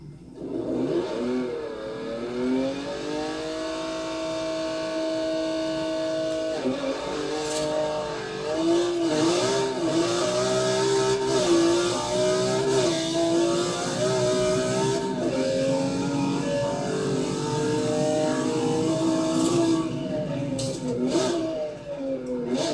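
Drag race car engine held at redline for a launch, a loud sustained high-pitched rev that wavers and climbs repeatedly over about twenty seconds, with no talking.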